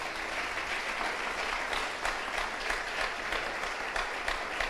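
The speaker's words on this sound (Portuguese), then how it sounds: "Você pode dar uma salva de palmas ao Senhor?" Steady, dense applause from a congregation during a church sermon, a continuous loud patter of many hands clapping with no speech over it.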